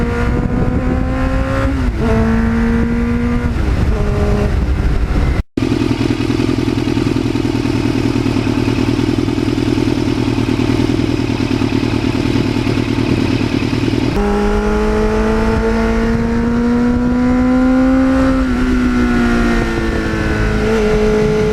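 A 1983 Suzuki XN85 Turbo motorcycle engine roars close by while riding, droning steadily and shifting pitch as it speeds up and slows, with wind noise and a brief dropout.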